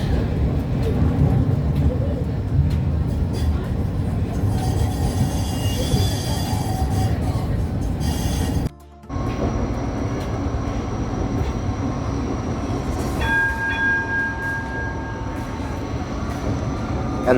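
A Gold Coast G:link light rail tram rolls along its tracks near a tram depot with a rattling rumble and high wheel squeals, briefly cutting out before continuing with a whining motor tone.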